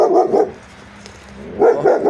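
A dog barks in two short bursts, a pair of close barks at the start and another pair near the end, with a quiet gap between.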